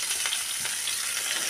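Cabbage frying in a pan, a dense continuous hiss of sizzling oil with faint stirring touches, close and steady, with no voices.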